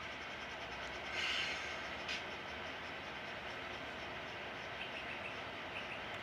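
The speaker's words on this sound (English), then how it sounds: "Right, now hear the air escape there." Air hisses out as the air brakes release on a model train fitted with a Tsunami sound decoder, a steady broadband rush with a brief louder burst near the start, heard alone with no talking.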